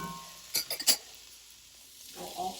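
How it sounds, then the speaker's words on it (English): Celery and other vegetables caramelizing in a Dutch oven: a quick cluster of metallic clinks and stirring scrapes, then a soft, steady sizzle that swells again near the end, close and fairly quiet. "get started on caramelizing all of this into our Dutch oven"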